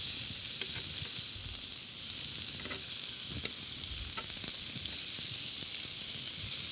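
Lamb sears in a hot pan with a loud, continuous sizzle and hiss, joined by occasional soft clicks and shuffles as the meat is turned; no voices are heard.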